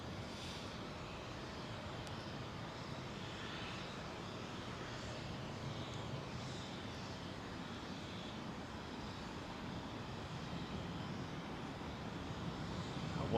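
A jet departing Heathrow's runway 09R passes overhead as a faint, distant, even roar that stays steady throughout, alone without talk.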